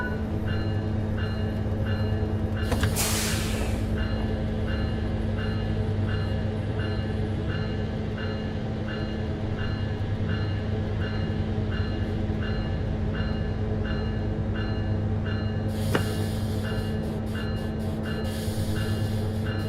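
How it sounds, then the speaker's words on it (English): A train rolls slowly under light automatic braking toward a station stop, with a low steady rumble, faint metallic squeals, and two brief bursts of hiss from the brakes, the second near the end. "Begin applying a small amount of braking force using the automatic brake to bring the train to a gentle"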